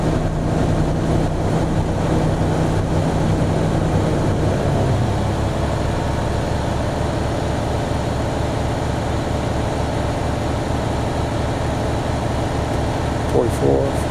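A Freightliner truck's diesel engine is held at raised revs of about 1,000-1,500 RPM to build air pressure: a loud, continuous, close rumbling drone with a faint shift in pitch early on.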